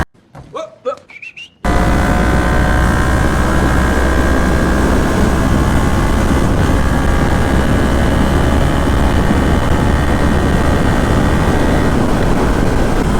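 A Yamaha MT-03 motorcycle fitted with a full exhaust idles while warming up, a loud, steady, rumbling drone that continues unbroken after a short quiet moment at the start.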